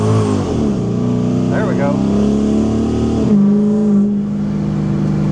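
A 5.7 HEMI V8 with a newly fitted intake manifold idles loudly and steadily, then rises in a quick rev and settles back to a deep, lumpy idle. It is close to the listener, and someone speaks briefly over the engine.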